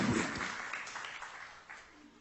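A church congregation breaks into sustained applause, a dense, steady wash of clapping that fades slightly toward the end, with murmured voices mixed in.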